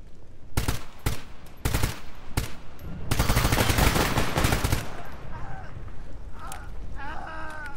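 Bursts of automatic gunfire crack out in the S.T.A.L.K.E.R. GAMMA game, several short volleys followed by a long sustained burst, then quieter ambient game sounds.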